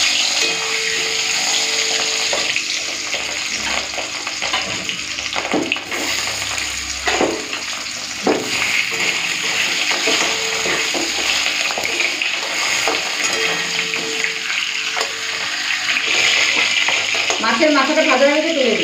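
Fish head and tail fry in hot oil with a steady, hissing sizzle and occasional stirring clatter throughout, close and moderately loud, with a brief voice near the end.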